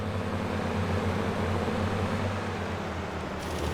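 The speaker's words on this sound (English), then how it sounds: "this John Deere engine definitely sounds," John Deere tractor engine in the Farming Simulator 22 video game, a steady low droning rumble that holds unchanged throughout, loud and close with no talk.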